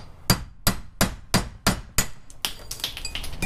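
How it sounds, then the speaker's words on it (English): A punch or brass drift hammered against a U-joint bearing cup while the yoke sits clamped in a bench vise: about six sharp, evenly spaced metallic strikes, close and loud, followed by lighter clinking and rattling. "we're just going to use a punch to finish pushing this through."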